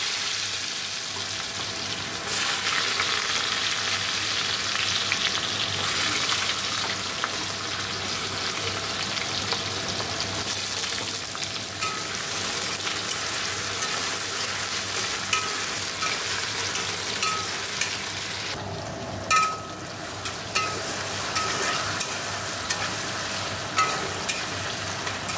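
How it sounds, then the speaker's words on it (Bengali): Potatoes fry in oil in a pan, giving a constant, close hiss and sizzle throughout, with a few faint clinks of stirring toward the end. "আলুটা আমি পাশ দিয়ে ভেজে তুলে নিচ্ছি"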